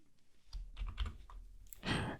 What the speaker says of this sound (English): I'm just going to press escape on my keyboard, and then I will do Shift ZZ